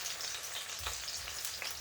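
Chicken tikka frying in a hot cast iron pan for garlic chilli korai balti: dense, steady sizzling and crackling up close, with a brief stirring scrape partway through.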